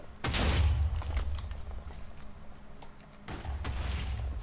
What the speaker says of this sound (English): just wait for it to do its little explosion